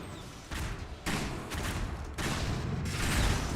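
Mortar fire in the Cosmonarchy StarCraft mod, a dense run of overlapping booms and thuds rolling on steadily, loud and close, with blasts landing in bursts and no talking over it.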